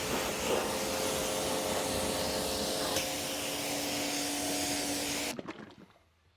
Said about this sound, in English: I'm going to rinse these off, get as much dirt and grime I can without having to trying to agitate it